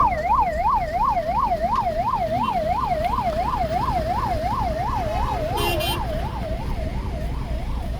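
A loud wailing ambulance siren sweeps up and down steadily, close by, over a rumble of highway traffic at an accident scene, with a brief horn blast near the end.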